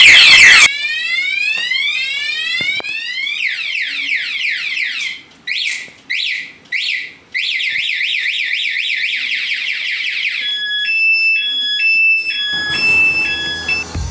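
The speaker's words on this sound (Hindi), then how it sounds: "देख सकते हैं किस तरह से सिक्योरिटी अलार्म हमारा प्रॉपरली काम कर रहा है" A motorcycle's remote central-lock security alarm shrieks loud and close, running through rising siren sweeps, rapid warbles, brief stuttering pauses and stepped beeping tones for the whole stretch, with no voices.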